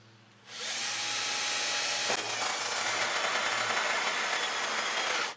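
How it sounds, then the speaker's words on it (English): A power drill bores a 3/4 inch hole in a bee trap, starting abruptly and then whining steadily and loudly at close range for several seconds, with a slight catch partway through. "what we need to do now is drill that 3/4 inch hole"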